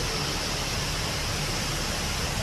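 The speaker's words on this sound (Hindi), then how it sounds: "करीब 20-30 फीट की ऊंचाई से गिरता झरना अपने साथ किनारे की मिट्टी, पेड़ पौधे सब बहाता ले जा रहा है।" Floodwater pours as a waterfall from about 20 to 30 feet in the desert of Sawai Madhopur, Rajasthan, sweeping away soil and plants, producing a loud, steady, unbroken roar of rushing water.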